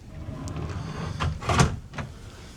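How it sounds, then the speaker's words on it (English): Pull-out drawers in a cruise ship cabin aboard the Carnival Firenze slide open and shut, a few soft rolling scrapes and light knocks spread over two seconds, close by and moderately quiet. "There's 3 pull-out drawers"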